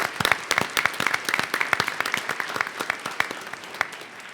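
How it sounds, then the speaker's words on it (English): An audience at a Socorro ISD school board meeting claps for district employees, a short burst of dense, close applause that gradually thins toward the end. "Let's give them a round of applause as well, employees."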